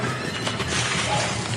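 Horse neighing in a Planet of the Apes film scene, a loud whinny close by with hoof clip-clops and background film sound mixed in.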